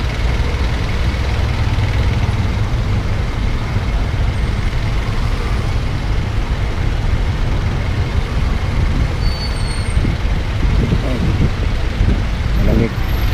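Congested road traffic in Baguio City keeps up a constant, loud low rumble of idling buses, trucks and cars, with occasional air-brake hisses and engine surges near the end.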